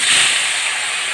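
Potato and raw green banana pieces dropped into hot mustard-style frying oil with bay leaf, giving a steady, loud hiss of sizzling that stays even and close throughout, with no voices.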